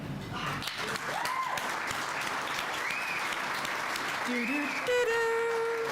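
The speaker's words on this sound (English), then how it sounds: "I'll keep clapping it." Audience clapping greets the winner at a building and construction industry apprentice awards ceremony, sustained applause under a host's voice, with a few brief tonal whoops and sung notes rising above the crowd noise.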